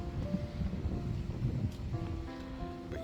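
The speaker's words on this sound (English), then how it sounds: "just how windy it is here at Gamekeeper's Cottage at the start of 2025" Wind gusting outdoors in a cottage garden in January, a low rumbling roar buffeting the microphone, with a faint tonal hum rising near the end.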